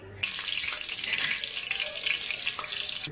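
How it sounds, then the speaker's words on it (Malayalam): Mustard seeds and curry leaves crackle and sizzle in hot coconut oil in a home kitchen pan, a dense, steady hiss with sharp popping spits throughout, loud and close. "കടുക് പൊട്ടിക്കുമ്പോ കറിവേപ്പില ഇടുമ്പോഴുള്ള ശബ്ദമുണ്ടല്ലോ, ഭയങ്കര ശബ്ദം കേൾക്കുന്നുണ്ടോ?"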